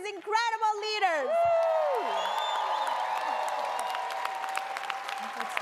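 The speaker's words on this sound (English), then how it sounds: "Please help me give this huge round of applause to these incredible leaders." A summit audience applauding political leaders, loud whoops and cheers at the start giving way to sustained clapping from a large crowd that gradually settles down.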